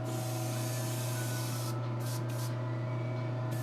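A paint sprayer mists yellow paint for a satin finish on a custom outfit. It gives a steady broadband hiss over a low hum, with brief gaps in the spray near the end.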